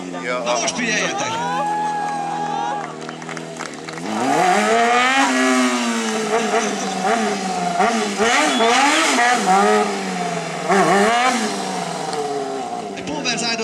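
A street-fighter stunt motorcycle engine revs hard and holds high during a wheelie show, rising and falling in pitch, with people talking over it and a crowd murmuring nearby.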